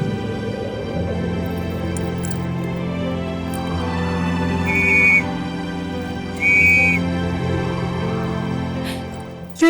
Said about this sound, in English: helplessly blows the lucky whistle he gave her to no avail